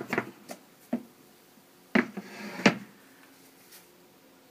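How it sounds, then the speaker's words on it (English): Pelican hard case holding a German Urton M2 tube microphone being unlatched and opened, with a few sharp plastic clicks and clunks spaced apart, then a soft rustle, all close and alone. "I'm gonna open it up this way so you guys can see it."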